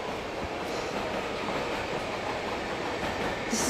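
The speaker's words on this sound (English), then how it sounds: "His train just took off." A train pulling away from a platform in a film scene, a dense continuous rumble of rolling wheels and carriages with faint clicking, steady and close throughout.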